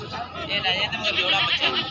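Goat bleating at a busy goat market, a wavering, sustained cry close by, set against crowd noise and nearby voices.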